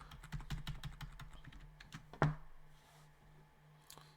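Typing on a computer keyboard, a quick run of close, quiet key clicks ending in a louder single tap, then a faint lone click after a pause.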